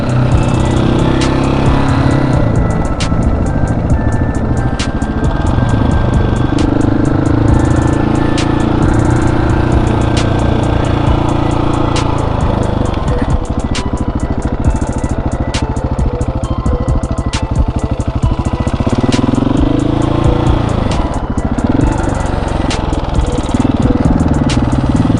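A KTM 701 motorcycle revs hard in first gear during wheelie practice, its engine loud and continuous, rising and falling in repeated throttle bursts.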